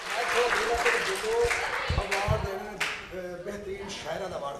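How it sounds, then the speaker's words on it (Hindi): An audience claps in an arts council hall in Gujranwala during a naat competition, moderate applause that swells and fades, mixed with a voice talking over a microphone. "उनके लिए भरपूर तालियां"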